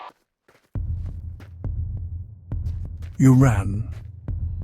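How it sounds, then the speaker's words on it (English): Low, thudding heartbeat pulses repeat at a slow, steady rhythm over a dark hum, loud and close, with a brief spoken voice breaking in partway through. "your heart pounding in your chest like a drum"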